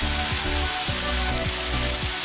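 Caribou backstrap with potatoes and onions sizzling steadily in a pan, a close, continuous frying hiss with faint rhythmic scraping or stirring beneath.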